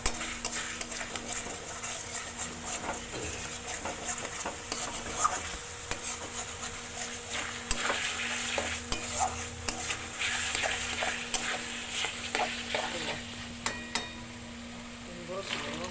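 Potatoes and peas fry in a pan while a utensil stirs them, giving a soft ongoing sizzle broken by repeated scraping and clinking strokes of uneven rhythm, close and moderately quiet.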